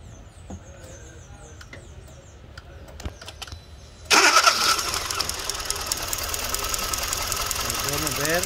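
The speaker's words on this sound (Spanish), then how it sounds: "Vamos a encender el vehículo." A Kia Soul with a misfire problem starts up after a few quiet clicks and ticks. The engine catches abruptly about halfway through and settles into a loud, steady idle.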